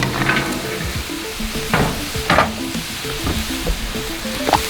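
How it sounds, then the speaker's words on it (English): Red onion, broccoli, cauliflower and carrot stir-frying in oil on a Blackstone griddle, a steady close sizzle broken by repeated scraping and tossing strokes from a spatula. "stir fry at its very basic right there"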